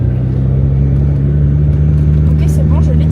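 A Ferrari's engine drones with a steady low rumble from inside the cabin as the car is driven after a gear change, with voices talking over it.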